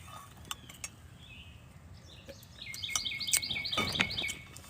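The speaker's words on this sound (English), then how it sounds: "Y'all hear the birds." Outdoor birds chirp and tweet in short bursts, sparse at first and then in a brighter trilling run near the end, moderately close over a soft background rumble and with no voices.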